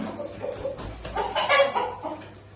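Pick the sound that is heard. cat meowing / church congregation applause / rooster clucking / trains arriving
rooster clucking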